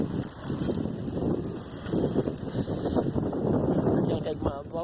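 Gusty wind buffets the microphone during a bike ride along a trail, producing a loud, uneven low rumble that swells and fades throughout.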